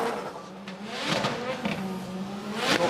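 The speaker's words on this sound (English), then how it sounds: "The anti-lag bangs from the back of the car as he comes off the line" A BMW 2 Series drift car launches off the line at a Drift Masters competition round in Finland. The engine rises in a hard rev, punctuated by several sharp anti-lag bangs from the rear.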